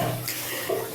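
Water runs into a bathtub while a child is being washed, a steady splashing rush that swells slightly near the end, with voices faintly underneath.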